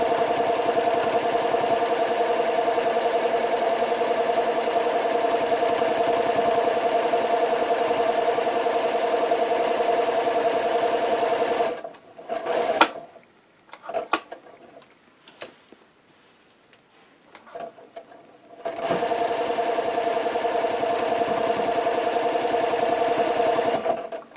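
Sewing machine stitching fabric placemats, a steady loud mechanical hum that stops midway for a stretch of quiet handling and fabric shuffling while pivoting at a corner, then resumes running.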